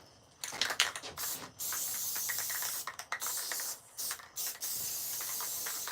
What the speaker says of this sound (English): This Rust-Oleum has this like different kind of spray nozzle.